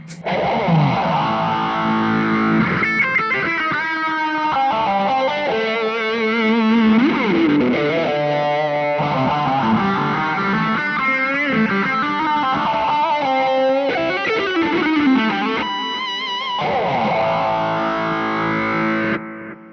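A distorted electric guitar plays continuous melodic lead lines and Dorian mode scale runs, loud and sustained, with no voices.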